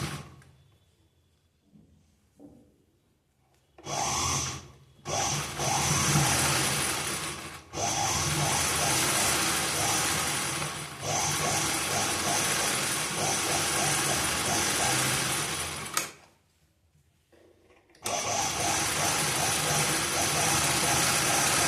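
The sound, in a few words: sewing machine stitching a blouse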